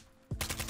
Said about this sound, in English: Oh, shooting? Fighting bots over there.